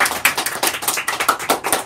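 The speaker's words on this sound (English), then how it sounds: "Let's all give these students a round of applause." Applause for student winners at a school fun run prize announcement, a small crowd clapping in brisk, uneven bursts, close and fairly loud, no voices.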